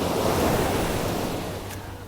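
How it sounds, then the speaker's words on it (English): Ocean waves surge and break on a beach at Dan Blocker Beach, a continuous broad wash of surf close by with wind buffeting the microphone, slowly easing off, with no voices. "That wave got me real good."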